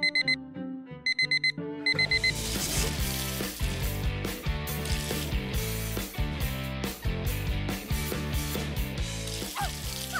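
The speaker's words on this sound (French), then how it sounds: "T'aimes pas ce réveil?" An alarm clock ringing in a shared university dorm room, first a few electronic beeping bursts, then a loud busy musical passage filling the rest.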